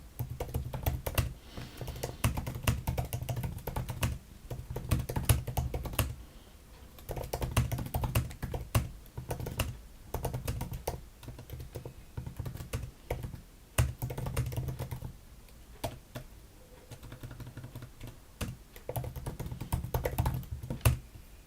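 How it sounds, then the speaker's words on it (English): Typing on a computer keyboard into a chat box: continuous quick clicky keystrokes with short pauses, close and fairly steady for over twenty seconds. "I'll write also in the chat box."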